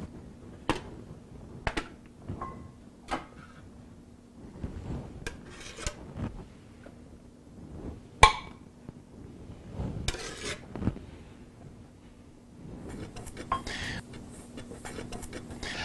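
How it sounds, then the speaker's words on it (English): Dry bagel finishing mix of flour is stirred by hand in a bowl, making quiet, intermittent scrapes, rubs and light clinks with short pauses between strokes. "I'm going to be mixing the finish mix in a bowl"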